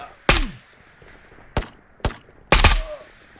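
Gunfire in the VR shooter game Ghosts of Tabor, four loud sharp shots spaced irregularly over a few seconds, the last a quick double burst, each ringing briefly against a quiet background.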